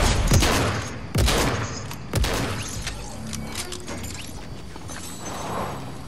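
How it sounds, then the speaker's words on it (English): A charge SMG fires in Fortnite: loud, sharp bursts at about one-second intervals early on, then a lower rumble of scattered shots and mechanical clatter. "Oh, it's a charge SMG."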